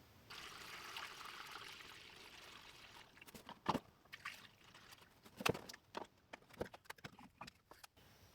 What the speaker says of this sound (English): Time to drain the coolant.